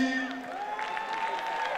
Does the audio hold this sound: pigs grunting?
no